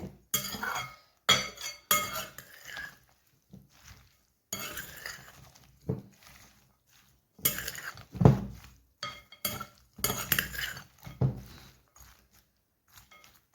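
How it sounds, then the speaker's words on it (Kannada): Okra fry ingredients being mixed in a bowl for crispy bhindi fry, with repeated clinks and scrapes of a spoon against the dish coming in short irregular bursts, close and fairly loud, separated by quiet gaps. "ಇದನ್ನ ಇವಾಗ ನೀಟಾಗಿ ಮಿಕ್ಸ್ ಮಾಡ್ಕೊಳ್ಳೋಣ."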